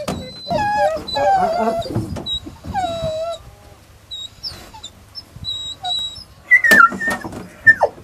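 Pheasant hunting dogs whine and yelp in high, wavering cries, with a sharp whistle near the end and scattered light clatter in between.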